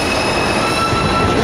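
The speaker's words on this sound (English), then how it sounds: "That's the train leaving." A New York City subway number 2 train pulls out of a station during a blizzard: a steady, loud, close rumble of wheels on rail with sustained high squealing tones running throughout, and no talking.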